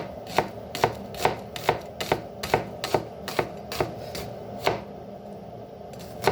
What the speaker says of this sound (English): So just start by dicing your onion. I'm going to use my trusty old cleaver.